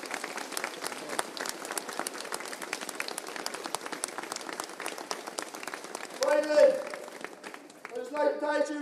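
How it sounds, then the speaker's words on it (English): Crowd applause at the Galway County Intermediate Football Final, a sustained patter of clapping from many hands, with a voice over a loudspeaker breaking in near the end. "Round of applause to Kilconly."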